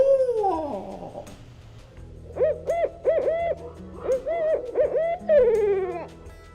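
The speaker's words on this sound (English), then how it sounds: "the barred owl says, "Who cooks for you? Who cooks for you all?"" A barred owl gives its rhythmic hooting call, a series of clear hoots grouped in phrases and ending in a descending drawl, loud and close with no talking.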